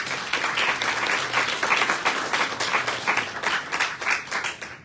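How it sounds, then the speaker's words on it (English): Applause from an audience at the UN Permanent Forum on Indigenous Issues, dense clapping that swells and pulses evenly for several seconds before tapering off. "let's give them a round of applause"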